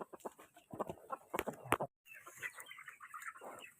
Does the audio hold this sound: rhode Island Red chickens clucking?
yes